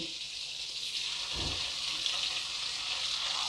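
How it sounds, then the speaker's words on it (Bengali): Paneer cubes frying lightly in melted butter in a pan over lowered gas flame, a steady soft sizzle with a brief low thump as pieces go in, no talking. "পনিরগুলোকে কিন্তু আমি খুব বেশি ভাজবো না, হালকা করে ভেজে তুলে নেব"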